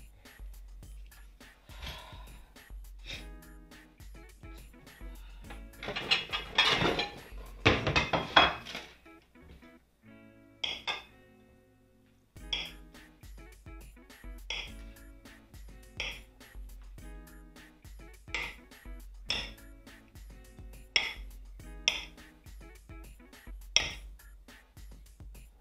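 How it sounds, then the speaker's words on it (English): Butter for a peach dump cake is cut in a dish, giving soft knife-on-dish taps and clinks of utensils and cookware at an uneven pace, with a brief cluster of louder clatter partway through. "you just want to cut your butter just like that"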